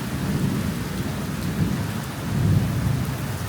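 Heavy rain pours steadily with deep rolling thunder building underneath, swelling louder toward the end; no one speaks.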